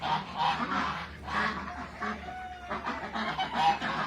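Loud honking and squawking from several male American ducks fighting in a noisy scuffle, with overlapping harsh calls throughout.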